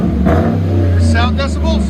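A Chevy/GMC 5.3L V8 with a Cherry Bomb Extreme muffler, its resonator cut off, growls at a steady, deep idle-rev close by, while a voice talks over it.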